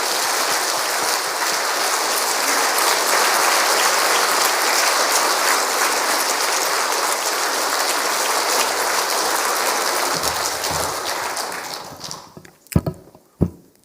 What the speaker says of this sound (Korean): 나오실 때 우리 뜨거운 박수로 맞아